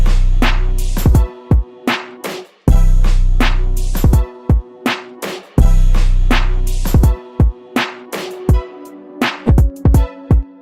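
An FL Studio beat blended with 30% of an over-compressed copy of itself, with heavy sustained bass chords cutting to punchy drum hits in a looping pattern, loud and dense throughout.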